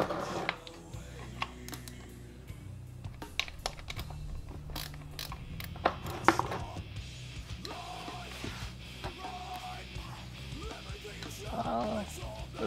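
A small 5/8 drain bolt being worked loose with a wrench from under a clutch cover, close-up mechanical clicks, ratcheting and metallic creaks in irregular bursts, with light handling noise throughout.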